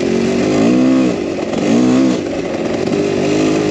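A motorcycle engine revs hard and loud at close range as the throttle is twisted, rising and falling in two strong surges over a steady roaring drone.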